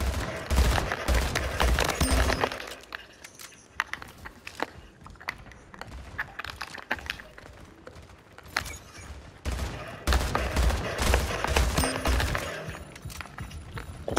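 Weapon fire in the video game Splitgate: sustained bursts of rapid shots with heavy low thuds, loud at the start, thinning into scattered cracks and mechanical clatter mid-way, then swelling again into dense firing near the end.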